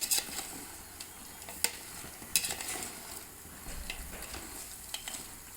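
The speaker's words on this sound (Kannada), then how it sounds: "ಇದೊಂದು ಸ್ವಲ್ಪ ಒಗ್ಗರಣೆಲ್ಲೇ ಒಂಚೂರು ನಾವು ಬಾಡಿಸ್ಕೊಳೋಣ" Pre-cooked goat head and trotter meat sautéing in a spiced tempering in a pot, a faint soft sizzle broken by occasional sharp clinks and scrapes of a stirring spoon.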